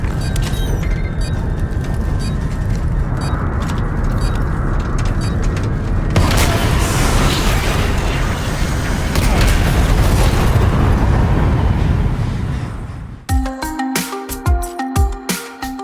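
A breaching charge detonates in Call of Duty: Modern Warfare Remastered, a loud sustained boom and rumbling blast that rolls on for several seconds before giving way to sharp, choppy gunfire-like bursts at the end.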